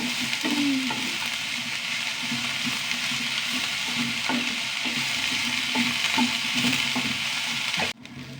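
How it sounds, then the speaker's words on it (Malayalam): Onions sautéing in a hot pan sizzle steadily, with repeated stirring scrapes at an even rhythm, close and fairly loud, no talk, ending abruptly. "ഉള്ളി നന്നായി വഴണ്ട് വരണം"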